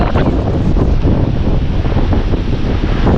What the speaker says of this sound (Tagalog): Masang hangin.